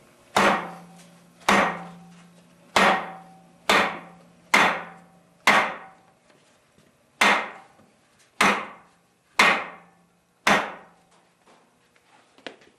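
A Cold Steel Rajah III knife with an aluminum grip delivers about ten hard overstrikes, each a loud, sharp woody chop, evenly spaced over several seconds with brief silence between.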